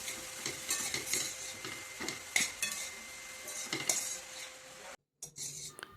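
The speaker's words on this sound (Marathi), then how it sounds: "एक ते दोन मिनिट आपल्याला हा गाजराचा किस तुपात परतून घ्यायचा आहे" Grated carrot sizzles in ghee while a utensil stirs and scrapes the pan in quick repeated strokes, cooking down for gajar halwa, close and steady, with a brief break near the end.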